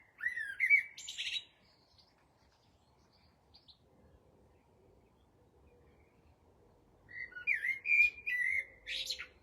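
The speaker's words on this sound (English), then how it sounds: "That's a blackbird." A blackbird sings in two bright, fluty bursts of phrases, one at the start and another near the end, with a quiet gap between them and faint background noise.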